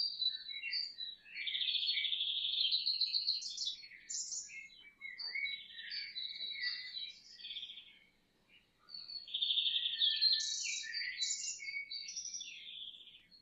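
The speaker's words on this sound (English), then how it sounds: "Listen to the melodies of returning birds, each song a celebration of new beginnings." Returning spring birds sing in bright, overlapping chirps and trills, close and clear against a quiet background, with a short pause midway before the song resumes.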